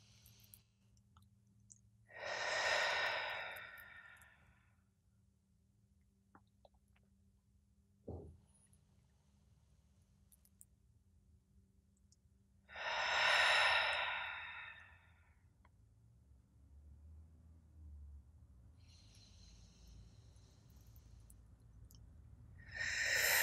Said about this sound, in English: Let's take three deep breaths together now.